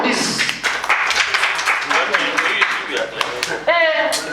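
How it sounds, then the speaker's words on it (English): An audience at a public meeting in Kano claps in a dense burst of overlapping handclaps, with voices mixed in throughout and a brief tonal sound near the end. "So you can clap for this."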